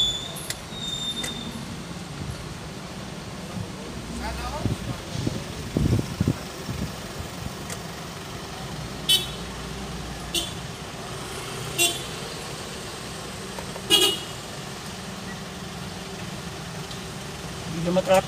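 Street traffic on a city road in Manila, a steady low rumble of engines with a few short horn toots and creaks scattered throughout, a voice speaking at times over the noise.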